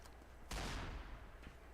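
Gunfire in a shooter video game: one sharp, heavy report rings out with a decaying tail, and a fainter shot follows about a second later, both fairly quiet overall.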